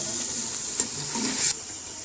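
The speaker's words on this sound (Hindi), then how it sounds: "मसाला अच्छी तरह भुन रहा है।" Masala spices fry in a pan with a steady, close sizzle while stirring adds a few louder scrapes and clatters partway through. No one speaks.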